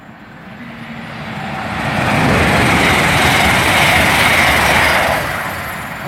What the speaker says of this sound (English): that's a Great Western Railway pass heading to Bristol, Temple Meads from London Paddington